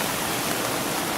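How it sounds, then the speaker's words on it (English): Constant broadband whooshing of strong wind during snowfall on a deer hunt, loud and steady with no pauses or voices. "Wind is still kicking."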